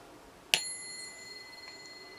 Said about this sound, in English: I'm going to ring the bell and clear the space.